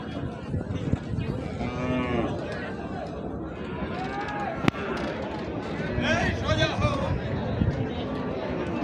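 Gir and Sahiwal cattle low repeatedly at a busy livestock market, several moos rising over a constant murmur of crowd chatter and nearby talk, with one sharp knock midway.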